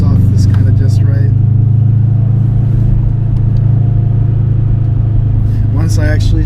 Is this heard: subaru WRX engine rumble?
yes